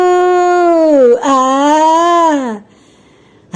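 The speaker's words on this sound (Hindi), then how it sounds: "ये कुत्ता भौंकता हुआ उधर आ रहा है" A dog in an animated Hindi children's story gives a single long, loud howl that rises and then falls, with a brief yelp in the middle. The howl then cuts off, leaving near silence.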